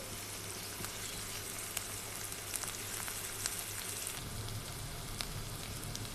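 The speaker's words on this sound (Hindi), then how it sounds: "अब मैं इसमें सब्जी मिर्चें डाल दूंगी और इसको भी 1 मिनट तक फ्राई करूंगी" Sliced onions and green chillies fry in oil for an aloo kachori filling, producing a soft, continuous sizzle with faint crackles and a low background hum, and no voices.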